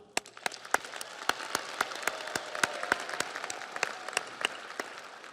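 Applause from the audience at a summer 2022 MATC commencement: crisp individual claps stand out over a softer wash of clapping, steady and moderately loud, growing slightly fuller before easing off.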